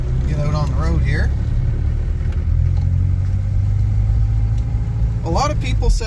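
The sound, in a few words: 1968 Mercedes W108 car driving on the road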